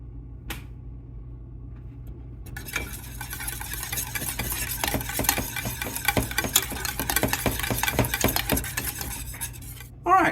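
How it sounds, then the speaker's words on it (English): A utensil stirs ingredients into Sunlight Soufflé batter in a bowl, a steady run of close scraping and clinking strokes that grows busier partway through and continues without talk. "we'll get that stirred in"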